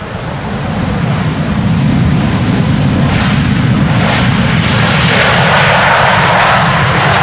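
A KLM airliner arriving from Athens lands on the center runway at Amsterdam Schiphol in stormy, windy weather, its engines roaring loud and continuous and swelling as it passes close by.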